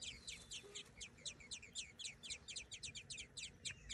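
Hungry baby robin chicks in a nest give a fast, continuous series of thin, high begging peeps, evenly spaced and faint against quiet background noise.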